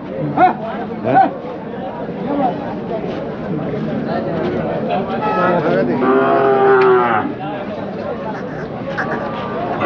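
Bulls bellow and low repeatedly amid a busy crowd at the Saturday bull market in Chakan, with steady chatter and voices throughout; one long, loud moo rises near the middle.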